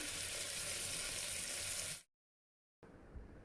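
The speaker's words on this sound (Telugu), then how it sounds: "కాస్త అల్లం వెల్లుల్లి పేస్ట్ టమాటో అన్నీ వేయించేసేయండి" Tomato with ginger-garlic paste frying in a pan, a steady loud sizzle for about two seconds, then a short silence before quieter sizzling resumes.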